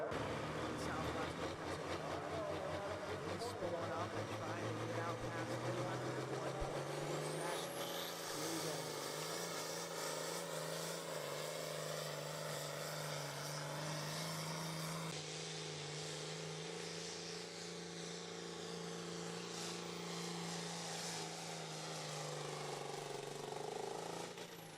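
A top-running pulling tractor at the 2023 Cookport Clash truck and tractor pull in southwestern Pennsylvania spools up with a loud, continuous engine roar. Its pitch climbs steadily and holds high through the run, with a crowd and an announcer faintly beneath it.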